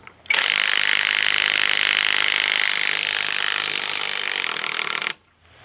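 A cordless 20V battery impact driver runs in one loud, continuous burst of roughly five seconds while removing a rusty, tight tire lug nut, then cuts off sharply.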